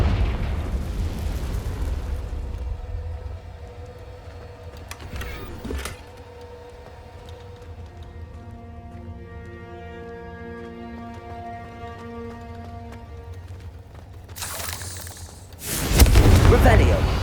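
Fiery Confringo blasting-spell explosions in Hogwarts Legacy: a heavy booming burst at the start, a sharp blast near six seconds and a loud eruption toward the end, with sustained game music tones and a voice in between.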